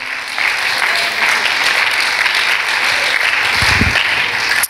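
A church congregation applauds in praise during a Sunday evening service, a dense, steady wash of many hands clapping that fills the space at an even level throughout, with a brief low thump near the end.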